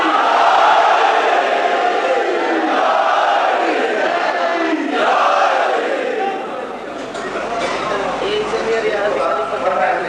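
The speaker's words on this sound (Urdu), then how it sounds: "دونوں ہاتھ بلند کر کے نعرے حیدری" A large crowd at a religious gathering shouts the Naara-e-Haidari slogan in unison, a loud, sustained roar of many voices that swells, dips briefly, then rises again.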